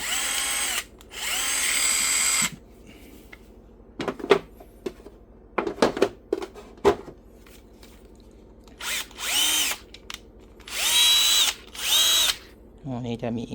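A Bosch power drill runs in several short, loud whirring bursts, separated by quieter clattering and handling noises from the tool being picked up and set down nearby.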